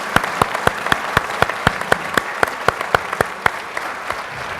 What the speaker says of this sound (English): let's begin by giving another round of applause to the San Jose High School